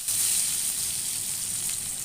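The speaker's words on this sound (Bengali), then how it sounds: "বেগুনটা ভেজে তুলে রাখবো।" Eggplant slices frying in hot oil give a steady, loud, close hiss and crackle that holds evenly throughout, with no speech.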